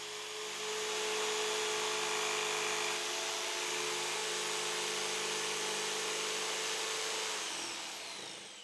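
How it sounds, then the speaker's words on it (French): A jigsaw cuts along the lines of a square in wood, a steady, continuous buzzing whine that holds evenly for several seconds and fades slightly at the end. "vous pouvez maintenant scier en suivant les lignes du carré, ce que vous faites à nouveau avec la scie sauteuse"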